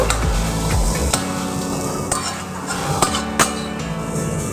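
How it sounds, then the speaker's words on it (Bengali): Vegetable chop mixture of mashed boiled potato and vegetables being stirred and mixed by hand in a pot, giving steady scraping and squelching with a few sharp clinks of utensil against metal, close and fairly loud. "আবার একটু আমি ভালো করে সব কিছুর সঙ্গে মাখিয়ে নেব"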